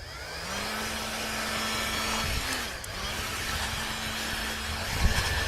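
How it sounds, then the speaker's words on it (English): A heat gun blows hot air over beeswax on a knife handle, giving a steady, close rushing roar with a faint low hum that dips briefly midway and then resumes. "I'm just going to go back again with the heat gun and melt that"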